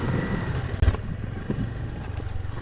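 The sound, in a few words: Honda Activa scooter engine revving while stuck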